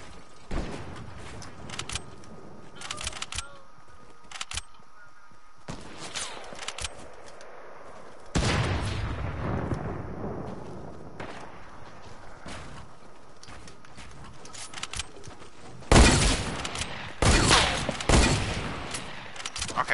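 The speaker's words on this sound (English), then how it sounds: "my shots are just not hitting" Scattered gunshots from the video game Fortnite crack out in short separate bursts, some sharp and close, others quieter, with gaps of quiet between volleys.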